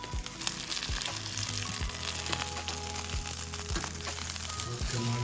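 Close, busy sizzling of a mince tortilla frying on a griddle, a dense crackle throughout, with a few soft low thuds and light scraping mixed in.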